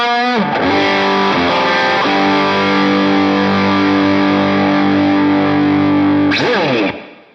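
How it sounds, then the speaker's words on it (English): An electric guitar lead runs through a Maxon SD9 overdrive with the tone knob fully down into a tweed amp, a loud, smooth, sustained distorted line with a few note changes and a final bend before ringing out. "The Maxon SD9 type drive. Now this is with the tone all the way off, but this gets you into a really smooth lead tone."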